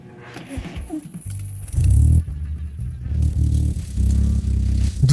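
The engine of a McDonald's truck left abandoned in a forest for 20 years, hot-wired, cranks and sputters, then catches in uneven rough bursts, with rattles and clatter close by.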